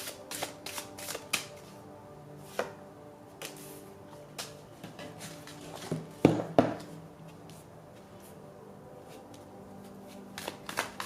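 Oracle cards shuffled by hand at a reading table, a series of soft riffling and slapping bursts with a denser flurry midway, close and quiet, without talk.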